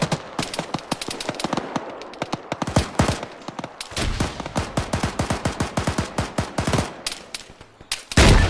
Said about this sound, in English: They brought a 50 cal up.